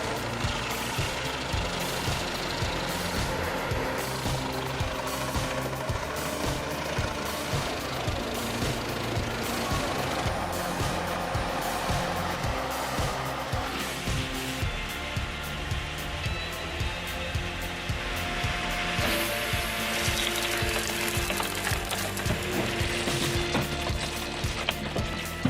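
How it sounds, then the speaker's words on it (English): A mobile firewood processing machine runs continuously at full power while cutting logs, a dense mechanical roar with rhythmic chopping and grinding pulses throughout. "have a mobile wood processing system with real industrial versatility"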